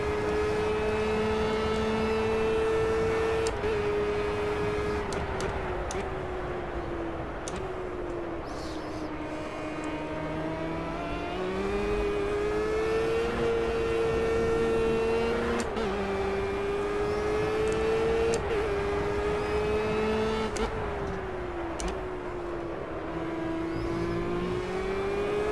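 A race car engine in the Project Cars racing game drones steadily throughout, revving up and down through gear changes with a continuous whining tone and occasional sharp shift blips.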